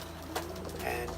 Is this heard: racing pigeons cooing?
yes